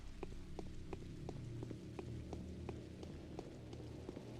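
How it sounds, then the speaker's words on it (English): Steady rain from the game Pathologic, with scattered drops ticking irregularly against a low constant hum; soft and even throughout, with no voices. "Me hear rain, but me no see rain."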